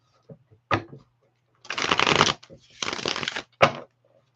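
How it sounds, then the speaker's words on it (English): Tarot cards being shuffled by hand in close, crisp bursts: several short riffles and two longer, dense shuffling runs, with brief taps between them, and no talking. "Let me get some shuffles."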